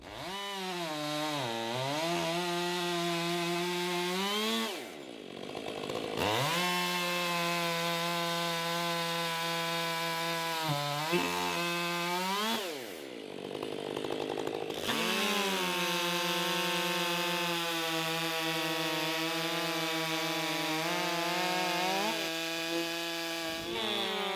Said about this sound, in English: chainsaw milling is harder on a chainsaw than normal use